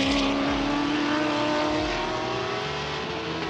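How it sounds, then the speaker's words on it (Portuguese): A Stock Car race car on a qualifying lap at the Velocitta circuit, its engine droning loud and close as it accelerates steadily through rising gears, with no voices over it. "Você vai acelerando e vai acelerando juntos aqui no Stock Car Channel."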